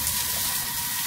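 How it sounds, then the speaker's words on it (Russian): Cevapcici fry in a pan with a steady, bright hissing sizzle, close and even over a short moment, with no voices. "И продолжаем дальше жарить"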